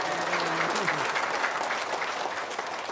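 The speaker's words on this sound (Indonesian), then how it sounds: "Tepuk tangan dong." Applause from an audience at a guest testimonial gathering, a dense steady patter of many hands filling the moment, with a voice briefly audible at the start.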